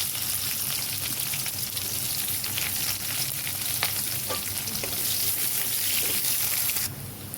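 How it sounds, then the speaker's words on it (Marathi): Onion frying in hot oil with mustard seeds, cumin and garlic for a methi and potato dish gives a steady, dense sizzle throughout, with faint stirring scrapes and no talking. "आता दोन चमचा तेल टाकून घेतलं अर्धा चमचा राय अर्धा चमचा जिरा टाकून घेतलं लसूण टाकून घेतलं कांदा टाकून घ्यायचा"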